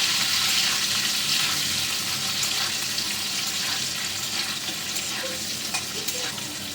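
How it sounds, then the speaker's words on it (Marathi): Boiled potatoes shallow-frying in hot oil for dum aloo, a steady close hiss and sizzle with occasional stirring scrapes, no voices over it. "हे जे आलू बटाटे आहेत जे बॉईल केलेले बटाटे आहेत ते आपण या तेलामध्ये परतून घेऊ थोडेसे ब्राऊन होईपर्यंत आपण त्यांना फ्राय करणार आहोत"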